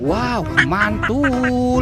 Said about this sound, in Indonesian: Ini ada bebek angsa teman-teman.